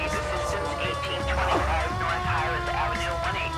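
A police siren wails continuously with rising and falling tones in the video game L.A. Noire, mixed with game engine noise and people talking over it.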